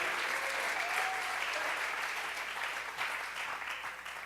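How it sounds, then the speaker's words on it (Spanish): A congregation at a Bible study claps together in a steady, dense burst of many hands, fairly distant and even, slowly fading a little toward the end with a faint voice-like tone briefly audible early on. "Dele fuerte esas palmas al Dios de la gloria."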